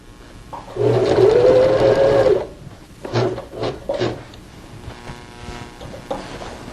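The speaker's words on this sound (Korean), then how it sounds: "노루발 들고 이렇게 반결하시면 됩니다" A sewing machine stitching a patchwork bath mat gives a close whirring run of about two seconds, followed by several short stitching bursts and light handling noises.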